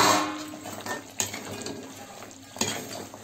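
Shakkarpare sweets being stirred briskly into sugar syrup in a pan, with scraping, clattering spoon-on-pan strokes and a couple of sharper knocks, close and moderately loud, with no talking.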